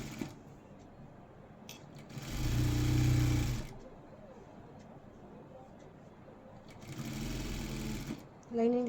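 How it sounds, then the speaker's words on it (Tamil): An electric sewing machine stitches along the edge of blouse fabric in two steady whirring runs, each lasting a second or two, separated by quieter handling sounds. "இப்போ மெயின் கிளாத் மேலே வச்சு ஓரத்தில் தையல் போட்டு வந்துடுங்க."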